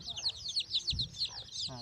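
Mother hen in a poultry pen clucking low and briefly while a rapid run of high, repeated peeps carries on around her, close and fairly loud.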